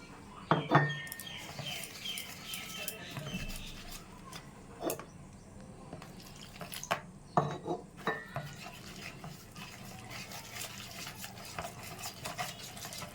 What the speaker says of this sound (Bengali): এটাকে একটু ফেটিয়ে নিতে হবে অনেকটা টাইম।